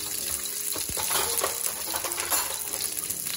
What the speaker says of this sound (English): putting my red cabbage in there